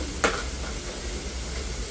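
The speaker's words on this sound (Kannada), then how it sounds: "ಸೊ ಈಗ ನಾವು ಇದನ್ನು ಚೆನ್ನಾಗಿ ಫ್ರೈ ಮಾಡೋಣ." Food frying in a pan on a home stove, a steady loud sizzle and hiss throughout with a brief sharper burst of crackle near the start, no voices.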